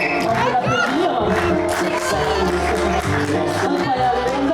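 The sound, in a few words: audience applauding and cheering at an improv show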